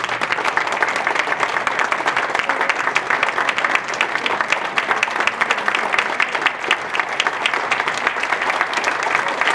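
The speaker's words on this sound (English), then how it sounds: "just so everybody can give you a big round of applause" Theater audience giving storytellers on stage a big round of applause, dense continuous clapping from a large crowd, loud and steady throughout with no talk.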